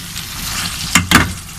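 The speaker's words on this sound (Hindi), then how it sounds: "3 मिनट तक आलू भूनने डालनी है" Potatoes frying with meat in a pot for aloo gosht, a steady sizzle with two brief louder bursts of stirring and scraping near the end, close and loud.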